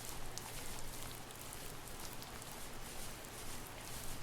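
Steady rain falls in the video game The First Tree, a dense, even hiss of drops that runs unbroken from start to finish, with no voices over it.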